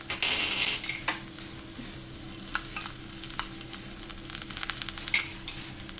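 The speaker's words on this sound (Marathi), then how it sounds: "एक लाल मिरचीचा थोडासा आणि आलं टाकून तडका देणार आहे." Red chili and ginger hit hot oil for a tadka, bursting into a sharp sizzle, then settling into quieter frying with intermittent metal spoon clinks and scrapes against the pan, for palak paneer.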